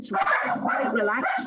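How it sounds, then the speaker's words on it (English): Dogs bark and yip in the background of a room while a person speaks over them, the barks short and overlapping with the talk. "Sorry about my dogs."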